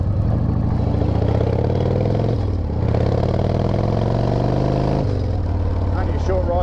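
A Harley-Davidson motorcycle on the road rumbles loudly and up close, its deep engine note steady with a couple of brief dips as the throttle eases and picks up again.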